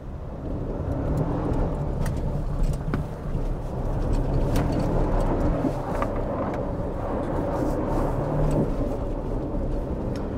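A 2024 Toyota Tacoma TRD Off-Road pickup doing donuts, a continuous engine roar with rumbling tire and gravel noise held steady throughout, heard from a distance.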